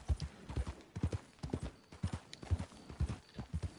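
Steady clip-clop of horse hooves trotting at an even pace in the video game Red Dead Redemption 2, moderately close, with faint ambient game sound and no talking over it.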